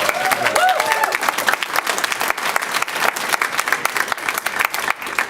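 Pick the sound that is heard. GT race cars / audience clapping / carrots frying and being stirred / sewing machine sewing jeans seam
audience clapping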